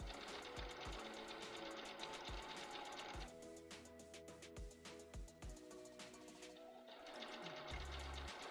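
A sewing machine stitches through several layers of fabric for a Poison Ivy cosplay costume, its needle hammering in a fast, even chatter that briefly slows mid-run before speeding up again, close and clear.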